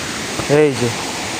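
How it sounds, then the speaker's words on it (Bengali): A hillside waterfall near a tiger cave rushes in a steady, even wash of water noise, with a brief voice cutting in partway through. "পাহাড়ের গা দিয়ে ঝর্ণাটা এগিয়ে চলেছে"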